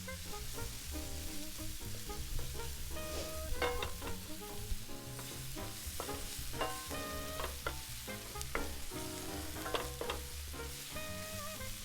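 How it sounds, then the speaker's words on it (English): Onions cooking down in butter in a fry pan hiss with a steady, close sizzle, and a utensil scrapes and stirs them now and then. No one speaks. "we're going to toss our onions and cook them down a little bit to make them nice and sweet"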